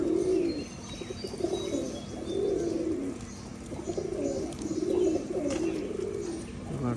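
Pigeons at a color-matched pigeon farm in Rajshahi coo in repeated low, soft rolling calls, one after another at a close, steady distance, with faint chirps behind.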